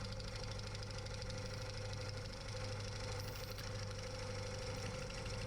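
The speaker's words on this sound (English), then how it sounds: "So we are turning at 800 RPM with the 40/40 bowl gouge" Wood lathe spinning an ash crotch bowl at 800 RPM while a 40/40 bowl gouge cuts, a steady mechanical hum and whir with a continuous rattling vibration, no talking.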